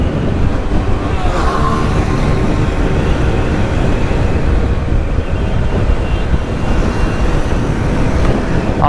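Constant loud wind and road roar while riding on a highway with fast traffic near a toll plaza, a dense, steady rush throughout with no clear breaks.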